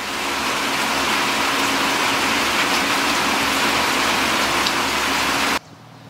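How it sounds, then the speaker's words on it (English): Light morning rain falls steadily outdoors at a farmhouse, a constant even hiss close by with no voices, ending abruptly near the end. "Got a little rain falling this morning."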